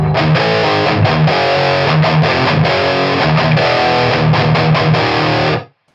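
Electric guitar through a Revv Northern Mauler HM2-style distortion pedal, a loud, saturated, buzzing riff of chugging rhythmic chords that rings steadily for about five and a half seconds, then cuts off abruptly.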